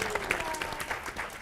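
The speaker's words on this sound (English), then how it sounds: "Give a round of applause for Kelly Richardson" Audience applause at a women's symposium town hall as Kelly Richardson, co-creator of the Crown Movement, is introduced; a brief burst of steady clapping with some voices mixed in.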